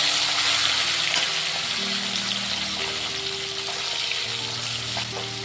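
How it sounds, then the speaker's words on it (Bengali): Morola fish coated in salt and turmeric fry in white oil with a steady, loud sizzle and bubbling. Faint clicks and a low hum sit under it, and no one speaks. "প্রথমেই নুন হলুদ মাখিয়ে রাখা মোরলা মাছগুলি ভেজে নেব।"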